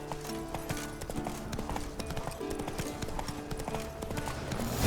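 A horse gallops in The Witcher 3: Wild Hunt, rapid rhythmic hoofbeats close and loud, carrying steadily over a busy game soundscape, with no talk.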